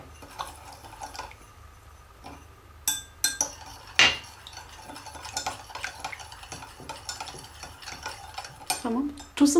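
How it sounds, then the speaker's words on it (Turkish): A spoon stirs salt into boiled water in a container, giving scattered light clinks and scrapes against the sides with brief splashes, close up and fairly quiet, with faint talk in between. "Ona şimdi bir tatlı kaşığı tuz ilave ediyorum. Onu çözdüğüne kadar karıştırıyoruz."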